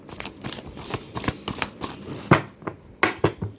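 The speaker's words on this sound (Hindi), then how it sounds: "कार्ड को एक बार फिर से मिक्स करेंगे अच्छे से" Tarot cards shuffled by hand at close range, giving a series of quick riffling bursts and soft slaps in an uneven rhythm, with a few sharper snaps toward the end.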